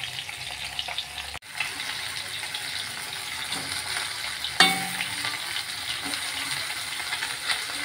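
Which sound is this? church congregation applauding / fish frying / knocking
fish frying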